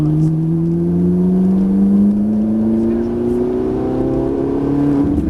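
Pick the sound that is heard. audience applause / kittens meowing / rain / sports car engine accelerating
sports car engine accelerating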